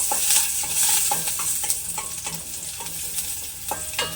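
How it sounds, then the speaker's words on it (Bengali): Crushed garlic frying in hot oil in a pan alongside chillies, with a spatula stirring and scraping at a steady pace over a continuous close sizzle, while cooking chickpea dal with water spinach. "রসুনটাও লাল লাল করে ভেজে নেব।"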